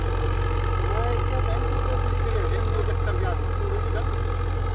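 A tractor engine runs in a field with a steady, heavy low hum, while people talk over it close by.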